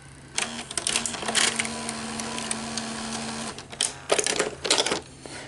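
A Sony SL-340 Betamax VCR with poorly lubricated gears whirs and clicks mechanically as it tries to eject, with a steady motor hum in the middle and louder clattering bursts near the end.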